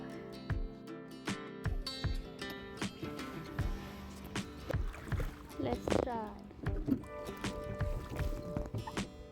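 Rowboat with two heavy oars on a lake in Mount Royal Park, water splashing and gurgling in repeated strokes with knocks of wood, close by, while people talk throughout.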